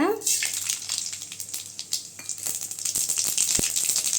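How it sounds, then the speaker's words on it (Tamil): Mustard seeds sizzle and pop in hot oil in a pan while banana flower stir-fry is being made, a crackling hiss with scattered sharp spits throughout. "இப்போ சட்டியில் எண்ணெய் ஊற்றிக்கலாங்க கடுகு சேர்த்துக்கலாங்க"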